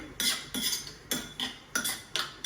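Mushroom mixture being stirred in a bowl, with six regular, evenly spaced scraping strokes of a utensil against the bowl, close and fairly quiet, with no talking.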